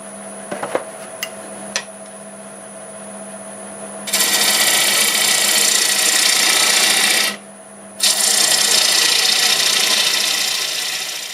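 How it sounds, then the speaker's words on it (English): A bowl gouge cuts a stave bowl spinning on a wood lathe at about 900 RPM, a loud, close, steady rasping hiss that runs for several seconds, breaks off briefly, then resumes after a few quiet taps at the start. "Sharpened up my 1/2 bowl gouge. This is turning plenty good. About 900 RPM."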